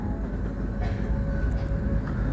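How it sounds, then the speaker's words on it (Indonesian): The Lodaya passenger train pulls out of Tasikmalaya station at night in a steady, fairly close rolling rumble of wheels and cars with faint squeals above it. "kereta api Lodaya kembali diberangkatkan dari stasiun Tasikmalaya"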